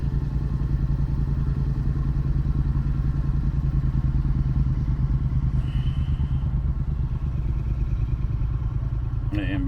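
A motorcycle engine drones loud and close for the whole stretch, a steady rumbling run with a faint clatter near the end.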